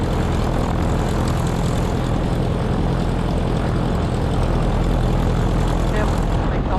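A propeller airplane's engine drones loud and steady as it rolls for takeoff at the start of the 2025 AirVenture Cup air race, a continuous close roar with no break.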